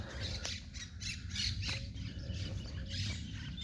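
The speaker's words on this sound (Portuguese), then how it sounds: "Tem mais algumas aves aqui." Birds squawk repeatedly on a narrow waterside street on an island in Porto Alegre, Brazil, their harsh calls overlapping fairly close against steady outdoor background noise.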